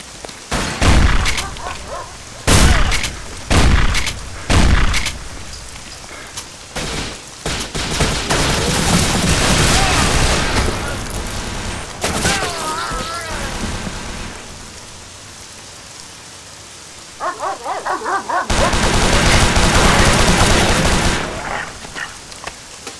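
Gunfire in the Tactical Intervention video game, aimed at a dog: loud bursts of automatic shots in separate volleys, then sustained rattling fire, a quieter pause, and another long burst.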